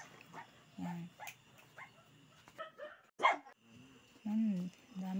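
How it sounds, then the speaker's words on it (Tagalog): Several dogs bark in short scattered bursts, some near and some farther off, in a village in Mogpog, while people talk quietly in between. "dami lang pong aso dito"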